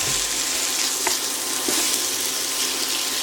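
Chicken and potato with pepper, turmeric and ginger fry in oil in a pan, giving a steady, close, continuous sizzle with a few faint scrapes of stirring.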